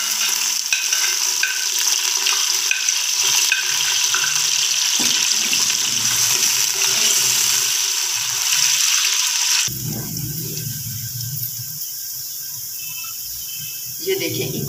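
Onions frying in a cup or more of oil in a pressure cooker for an eggplant and potato curry, a loud dense crackling sizzle that drops abruptly to a quieter, steadier hiss partway through, with faint stirring scrapes.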